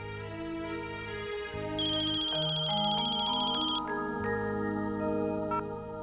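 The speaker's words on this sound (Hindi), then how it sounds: "माँ मैं फोन करती हूँ नैतिक जी को।" A phone ringtone plays continuously, a bright electronic melody repeating its pattern with no talking.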